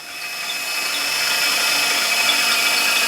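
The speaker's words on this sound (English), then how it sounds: "Just drill them out with that." A new power drill runs steadily, its continuous high whine swelling slightly in the first second and then holding loud and even, with no voices over it.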